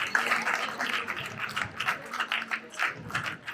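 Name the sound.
audience applause for guests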